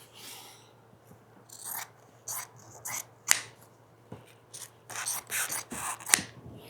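Scissors trim through chair upholstery fabric in a run of short, crisp snips and rasping cuts, close and fairly quiet with brief pauses between bursts.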